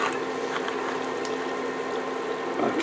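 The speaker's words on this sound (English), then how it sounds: "I'm not going to drain my beans, I'm going to use that water that's in there." Liquid from undrained canned beans pours into a pot of homemade Mexican chilli, a steady close splashing and gurgling wash that runs continuously, with a slight swell toward the end.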